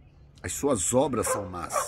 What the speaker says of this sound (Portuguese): Vocês devem estar ouvindo aí o latido do cachorro